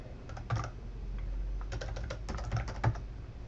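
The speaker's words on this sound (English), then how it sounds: "So I hit my Windows key" Keys on a computer keyboard are pressed in quiet, irregular bursts of close clicks and taps, with short pauses between strokes.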